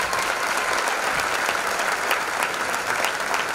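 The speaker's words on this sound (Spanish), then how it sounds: "Un fuerte aplauso para todos ellos" Steady applause from an audience at a breakdance show celebrating a fifth anniversary, dense, continuous clapping filling the whole stretch at a constant level with no voices on top.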